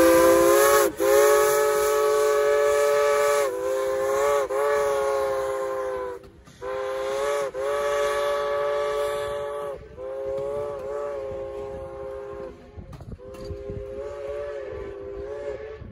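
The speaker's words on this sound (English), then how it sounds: "this train just kept leaving and leaving and leaving and leaving and leaving" A departing steam train sounds its whistle in a series of long, loud tonal blasts with short breaks between them, over a steady rail rumble.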